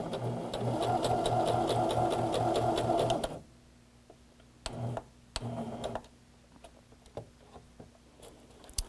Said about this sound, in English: we're going to stitch just down to where that white tape is